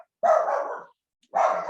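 Two loud, close barks from dogs indoors, a three-dog household, each bark a short burst separated by about a second of silence.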